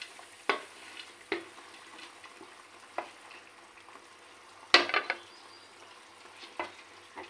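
Small chela fish cooking in a pan of bubbling liquid, with a faint steady simmer broken by scattered sharp clicks and knocks of a utensil against the pan; no one talks.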